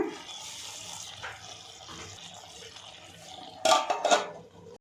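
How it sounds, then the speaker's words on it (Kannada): Water pours into a pan of cauliflower and peas curry in a home kitchen, a soft continuous trickle ending in two louder splashy bursts near the end, with faint utensil clinks. "ಈಗ ಸ್ವಲ್ಪ ನೀರು ಹಾಕ್ತಾಯಿದ್ದೀನಿ"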